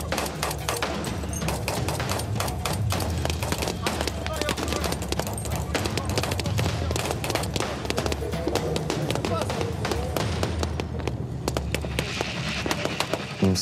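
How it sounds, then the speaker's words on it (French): Rapid bursts of machine-gun fire during French army desert combat training, a dense, continuous crackle of overlapping shots rattling throughout, close and loud, with voices faintly mixed in. "À mon commandement, intensification des feux."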